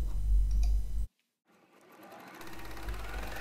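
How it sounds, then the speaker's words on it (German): A sewing machine stitches the seams of a dressing gown, running loud and fast, stopping abruptly into silence, then whirring back up and running steadily again; no one speaks. "Mit der Nähmaschine steppen wir jetzt sämtliche Nähte außer der Armeinsatznaht."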